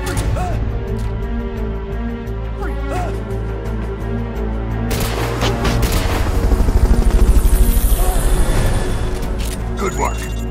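Helicopter in the video game Metal Gear Solid Peace Walker, a loud steady rotor drone with pulsing beats that swells midway, layered with game effects and music.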